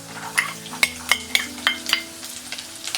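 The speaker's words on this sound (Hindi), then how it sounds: "दो मिनट रेड चिलीज फ्राई होने के बाद हम डालेंगे ये कोकोनट पीसेस" Coconut pieces tumble into red chillies frying in a pan for red coconut chutney, with a soft steady sizzle and a run of sharp metallic spatula clinks against the pan, close and without talk.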